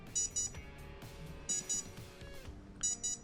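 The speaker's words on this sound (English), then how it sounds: "And you'll hear a series of 2 beeps." An RC plane's ESC, on a Twisted Hobbys Mini Crack Pitts build, giving calibration beeps: short paired electronic tones repeating in a quick pattern against a faint background hum, close to the microphone.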